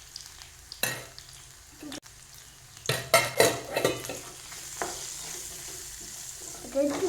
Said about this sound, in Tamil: நல்லா கிண்டிக்கணும்